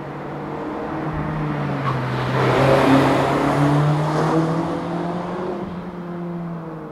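A 2024 Mazda MX-5 ND3 with a 2-liter Skyactiv-G engine accelerating, a rising engine note that swells and peaks mid-clip and then eases slightly, loud and steady with no talking.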